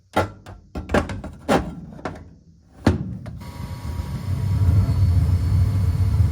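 Furnace panel clunks shut in a few sharp thuds and knocks, then the unit switches on into a steady low rumbling hum that carries to the end.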